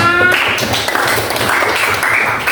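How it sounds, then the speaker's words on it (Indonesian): Brief burst of clapping from a classroom of students applauding a student group, uneven and close, following a short ringing tone at the very start. "tepuk tangan untuk kelompok 5"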